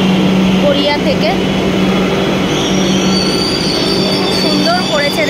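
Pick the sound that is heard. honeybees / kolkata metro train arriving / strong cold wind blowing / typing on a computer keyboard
kolkata metro train arriving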